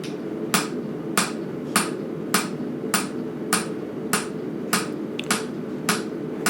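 A farrier's fuller tool driven into a horseshoe with a hammer, about eleven sharp metallic strikes in an even, steady rhythm, close and moderately loud over a low background murmur.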